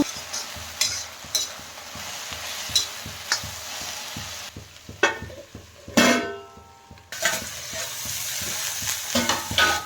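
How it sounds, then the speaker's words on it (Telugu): Okra being fried with chili powder in a pan, with a steady sizzle and repeated scraping stirs of a spoon against the pan, close and clear with no talking. "ఇప్పుడు ఒక స్పూన్ కారం వేసుకోవాలా అలా కలుపుతూనే ఉండాలా"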